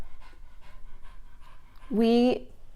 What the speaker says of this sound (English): If you hear that, that's my dog panting.